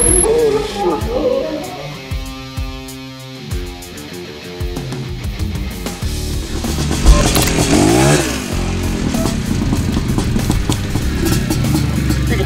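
Yamaha Blaster quad racing on a homemade Monster Jam-style track, its engine revving and rising in pitch up close amid clattering and scraping, with people talking over it throughout.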